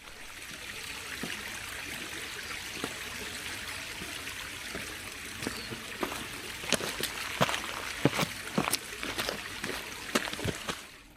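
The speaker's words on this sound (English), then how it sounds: "So many of those little waterfall crossings along this route." A small waterfall stream crossing on the West Highland Way in Scotland gives a steady close rush of flowing water, with sharper splashes and footfall-like knocks growing busier toward the end.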